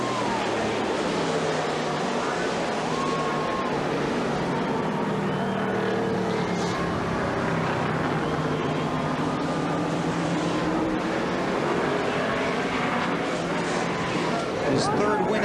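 NASCAR stock cars roar around the Watkins Glen road course, a continuous loud engine drone with shifting pitch as a car sweeps through a right-hand turn, with a commentator talking over it.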